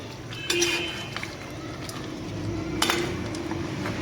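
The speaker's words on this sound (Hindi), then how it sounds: "गाइस अब हम इसे अच्छे तरीके से कौरमे के साथ भून लेंगे।" Beef korma with crushed browned onions being fried in a pot, with clinks of a utensil against the pot and a steady low sizzle throughout, without talk.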